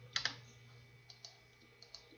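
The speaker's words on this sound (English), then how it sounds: "I've been just typing in random things like Pinkie Pie" Computer keyboard typing, a few quiet clicky keystrokes in small clusters, close and soft, over a low steady hum with no speech.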